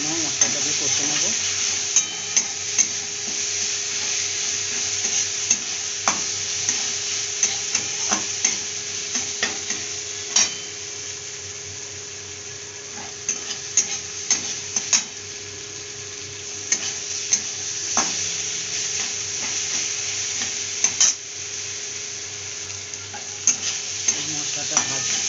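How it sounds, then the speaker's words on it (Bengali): Spice masala with chili frying and being stirred in a pan, a steady sizzle running throughout with repeated sharp scrapes and clicks of the spoon against the pan, close and without speech. "ভালো করে ভেজে নেবো, মশলাটা দিয়ে কষে নেবো"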